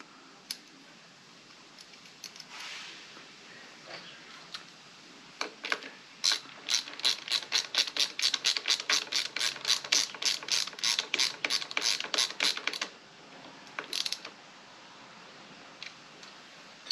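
A ratchet tightens a nut while a brake lever is fitted to a 2024 Yamaha MT-03 motorcycle, giving a long run of rapid, evenly spaced clicks close up, with a few scattered clicks before and after.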